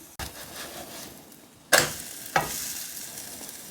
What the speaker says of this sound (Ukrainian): Викладаю на сковорідку по 3 столових ложки і обсмажую з обох боків.